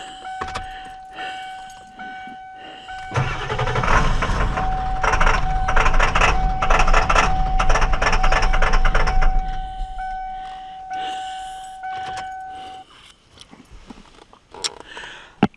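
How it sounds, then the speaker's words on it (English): Ford 7.3L Powerstroke diesel truck engine cranking and starting, a loud rumbling run for several seconds that then dies back down, with a steady electronic chime tone sounding over it. "I'm gonna start the truck and you listen to it."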